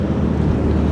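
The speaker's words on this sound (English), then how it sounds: "It's so windy." Loud, steady wind buffeting the microphone outdoors in cold Las Vegas weather, a dense low roar with no other sounds.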